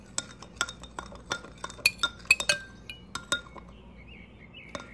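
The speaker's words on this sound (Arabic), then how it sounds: "الآن نبدأ في مزج المكونات مع الزيوت العطرية" Incense ingredients being stirred with aromatic oils in a glass vessel, giving a run of light, sharp clinks and taps at an irregular pace, close and fairly quiet, with a faint chirping sound near the end.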